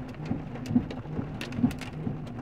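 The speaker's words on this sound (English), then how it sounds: "More hail. Hail. More hail." Hail falls during a monsoon storm in Sedona, giving a steady patter with sharp irregular ticks of stones striking surfaces, moderately close and without speech.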